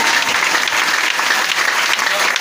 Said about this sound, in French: Est-ce que tu peux applaudir amen?